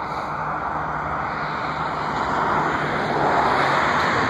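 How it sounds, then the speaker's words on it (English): Small private propeller plane flying near an aviation park by BWI airport, a steady distant droning hum that swells slightly toward the end, with no talk. "There's a plane flying off somewhere."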